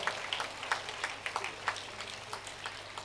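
Children at a school world-record event clap for themselves, a faint, scattered patter of light claps heard from a distance, with no voices over it.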